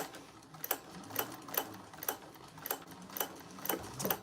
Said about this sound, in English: I'm going to back stitch and top stitch